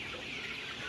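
Hybrid broiler chickens in a poultry shed clucking and chattering together while being fed, a dense steady murmur of many birds at moderate distance.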